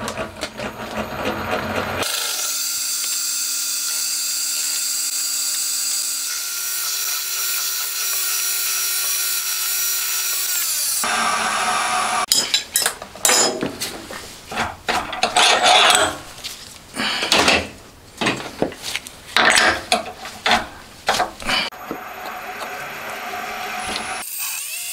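A small machine tool works a connecting rod for a handmade 125cc four-cylinder, 16-valve engine, taking a 0.5 mm cut off the top. A steady loud motor whine runs throughout, broken midway by a stretch of rapid clattering, ratcheting cuts. No one speaks.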